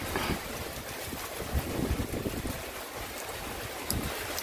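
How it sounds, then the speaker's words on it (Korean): Strong typhoon wind roars steadily over a rice paddy in loud, continuous gusts that buffet the microphone, with no talking. "너무 바람이 많이 불고 이제 본격적으로 이제 여기 이쪽에 중심권에 들어온 것 같아요."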